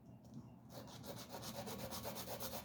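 Sandpaper of 180 grit rubs back and forth over an aluminum knife handle against a flat surface, quiet rhythmic scratchy strokes starting after a brief pause and repeating steadily.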